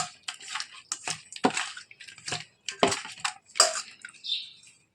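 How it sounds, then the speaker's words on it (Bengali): Salt and turmeric worked by hand into a large magur catfish: close, wet squelching and rubbing strokes in short irregular bursts, with brief pauses between handfuls. "বন্ধুরা, মাছটাতে আমি ভালোভাবে লবণ হলুদ মাখিয়ে নিচ্ছি।"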